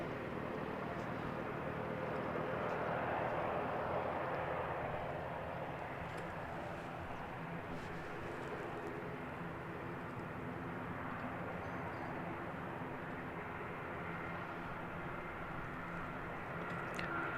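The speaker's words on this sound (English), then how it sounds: "Another ATR heading out in the background there to Palmerston North" ATR turboprop airliner departing Christchurch Airport in New Zealand for Palmerston North, a faint distant engine drone that swells briefly early on and then fades to a low steady rumble.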